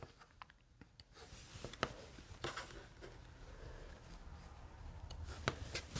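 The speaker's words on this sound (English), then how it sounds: "I'm just going to snip those strings in between." Sharp, quiet scissor snips cutting the connecting threads between chain-pieced fabric quilt blocks, several short clicks scattered irregularly over a soft background, with no talking.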